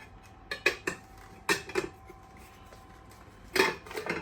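Glass lamp cover from a ceiling fan being handled, giving several sharp clinks and knocks in a few separate clusters, close and fairly quiet with short pauses between, no talking.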